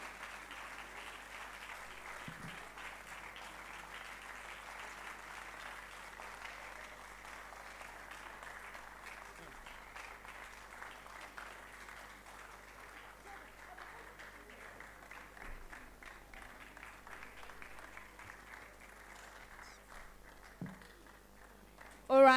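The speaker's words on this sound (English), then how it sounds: "Let's clap for them until they actually get to the stage." An audience at a national investment quiz competition semi-final keeps up steady applause for about twenty seconds, a dense, moderately distant patter of many hands with an isolated sharp clap near the end.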